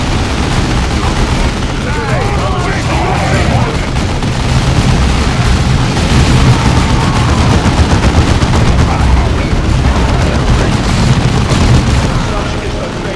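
Tactical squad returning fire in the Warhammer 40K game Dawn of War 2: dense, continuous bursts of gunfire with booming impacts, loud and close, running the whole time with voices mixed in.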